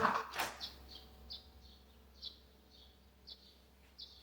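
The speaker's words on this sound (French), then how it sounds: "Est-ce que vous voulez entendre les oiseaux?" Outdoors in spring, small birds give short, faint, high chirps at irregular intervals, spaced a second or so apart after a brief louder rustle at the start, over quiet background.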